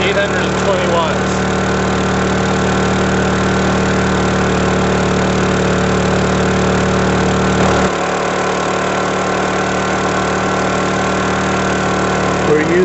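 A Honda generator burning JP-8 fuel drones steadily up close under a heat-gun load, its even mid-to-low engine hum holding throughout, with a slight drop in the low rumble partway through.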